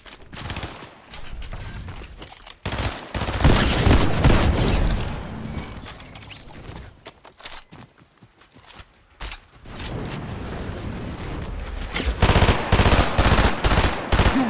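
Rapid automatic gunfire in Fortnite Chapter 5: loud, sustained bursts of close shooting with crackling impacts, briefly easing to quieter clicks and scattered shots midway before bursting into dense fire again.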